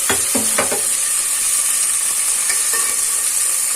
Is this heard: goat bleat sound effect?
no